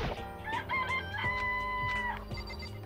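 Chickens cluck and crow in the video game Danganronpa: Trigger Happy Havoc. Several rising crows overlap, with short clucks and noisy bursts between them, and the whole thing plays loud and close over a steady low background.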